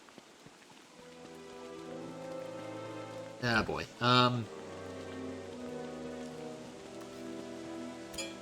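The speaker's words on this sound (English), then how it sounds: "I forgot about rain." Steady rain falls in the survival game Don't Starve Together, a continuous hiss under layered game music, with someone briefly speaking partway through.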